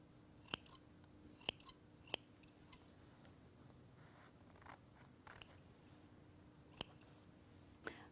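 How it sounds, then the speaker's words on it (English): Scissors trim excess fabric during draping: a handful of quiet, sharp snips spaced irregularly, close up in an otherwise hushed room. "I think I'm pretty safe cutting off this excess."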